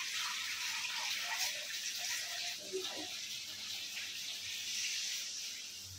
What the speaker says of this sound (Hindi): इसमें पानी डाल के थोड़ा देर छोड़ देंगे